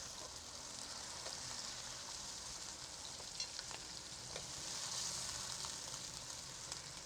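Chicken pieces frying in hot oil for a palak gosht dish, giving a steady, soft crackling sizzle throughout with faint pops, no voices over it.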